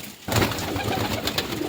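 Pigeons kept for sale gather at scattered grain and coo in a soft, continuous, throaty murmur close by, starting abruptly and running steadily with no talking.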